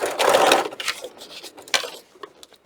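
A sewing machine basting a fabric strap for a book protector, with a short burst of rapid mechanical stitching at the start followed by scattered clicks and handling noises as the work is moved.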